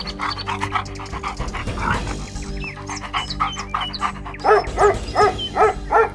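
A dog sniffs and pants in quick rhythmic bursts, close and fairly loud, with whimpering yips toward the end over a steady background of music.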